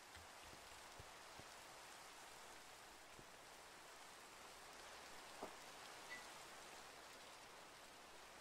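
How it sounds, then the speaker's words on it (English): Steady rain falls in Minecraft as a soft, even hiss that runs throughout, with a few faint isolated clicks and a brief louder tick near the middle. "Ah, it's raining. It's raining."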